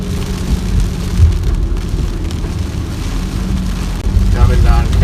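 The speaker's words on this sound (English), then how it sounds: "It's really been raining cats and dogs here in Cape Town." Heavy rain pours down steadily in Cape Town, a dense, continuous hiss and patter on surfaces that holds loud and even throughout, growing slightly stronger near the end, with no voices.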